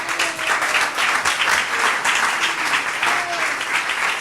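A crowd in a hall applauds after a talk with a techno DJ in Italy, loud, dense continuous clapping that holds steady throughout without pause.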